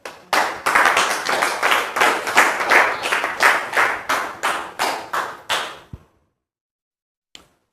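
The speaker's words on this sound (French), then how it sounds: "Merci public de recevoir notre sœur Priscille Kwasi sous vos applaudissements." A small group claps steadily for several seconds, a dense rhythmic patter that stops abruptly, followed by silence and one faint tap.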